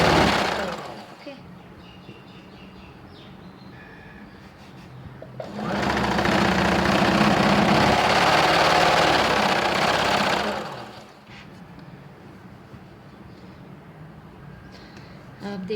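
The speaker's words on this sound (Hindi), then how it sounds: "फिर नीचे तक हमने सिलाई लगा दी है" A sewing machine stitches a fabric strip for a front-open kurti in one steady whirring run of several seconds, loud and close, with quieter handling and a voice before and after.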